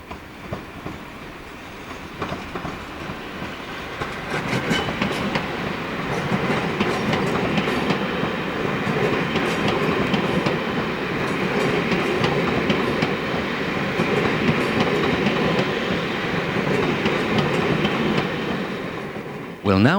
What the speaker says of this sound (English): We'll now follow these trains on their journey to the airport.